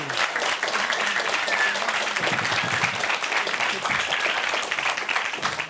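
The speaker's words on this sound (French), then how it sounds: "On peut applaudir Amanda Gluck, Simone Portifiato e Pedro Fran" A crowd claps steadily for several seconds, a dense wash of applause with voices mixed in.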